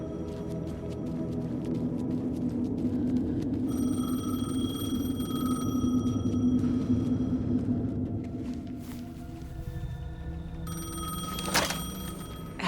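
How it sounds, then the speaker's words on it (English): Payphone ringing in the video game Alan Wake 2, a steady electronic ring with repeated tonal bursts over a low rumbling ambient drone, fairly loud throughout with no talk. "payphone was ringing"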